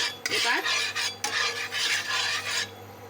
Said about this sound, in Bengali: গ্রেট করে রাখা গাজর, ক্যাপসিকাম কুচি, স্বাদ মতো লবণ দিয়ে গুলিয়ে নেব